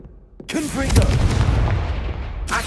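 The Confringo blasting spell in Hogwarts Legacy goes off as a sudden loud blast that rolls into a sustained rumbling roar, with a second sharp burst near the end and brief speech mixed in.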